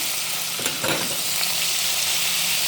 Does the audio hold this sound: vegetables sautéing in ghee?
yes